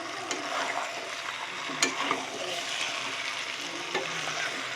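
Spice paste (masala) for chicken curry fries in oil with a constant crackling sizzle, punctuated by occasional scrapes and taps as it is stirred.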